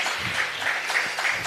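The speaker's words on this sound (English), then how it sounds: "give them a round of applause" Applause from an audience at a book launch event, a short continuous wash of clapping lasting about a second and a half at steady volume.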